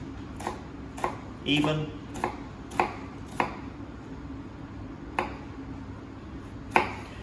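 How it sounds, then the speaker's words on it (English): Knife cutting vertical slices into an onion kept whole at the root for brunoise: sharp, crisp taps against a board in an uneven rhythm, close by, with a brief spoken word among them. "we want to do brunoise. So we want our vertical slices down"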